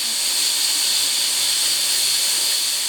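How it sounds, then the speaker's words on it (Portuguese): A pressure cooker hisses steadily while canjica cooks, a loud continuous high steam hiss with no breaks and no voices over it. "O barulho da panela de pressão anuncia que logo logo teremos canjica na mesa"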